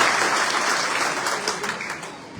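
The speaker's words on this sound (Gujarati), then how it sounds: "એકવાર જોરદાર તાળીઓના નાદ સાથે" Dense crowd applause at a village felicitation event in Ivangar, steady and fairly loud at first, then tapering slightly toward the end, with no voices heard.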